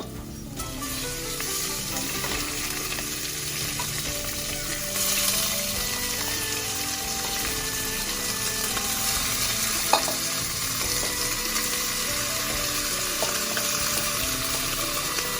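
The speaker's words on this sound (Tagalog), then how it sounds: "Pwede na natin ilagay yung pork. Dahan-dahan lang. Baka tumusik sa atin yung oil." Pork pieces frying in hot oil for caldereta, a steady crackling sizzle with stirring and clinks of a utensil against the pan, continuous and fairly close.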